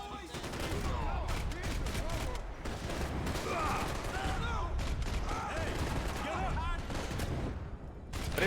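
Heavy gunfire in the Max Payne 3 shooter game, a continuous fusillade of rapid shots and automatic bursts crackling through a chaotic firefight, with voices shouting underneath.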